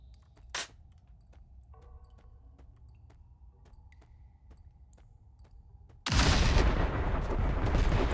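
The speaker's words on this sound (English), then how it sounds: "More carnage, more explosions" Faint sounds from the pixel game Untitled Pixel Simulator with a sharp shot near the start, then a sudden loud burst of roaring, crackling explosions and gunfire that continues to the end.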